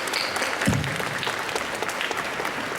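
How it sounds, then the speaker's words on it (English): An awards-ceremony audience in Hong Kong applauds the nominees, a dense and steady burst of clapping that lasts throughout, with no talk over it. "Let's give our nominees a clap."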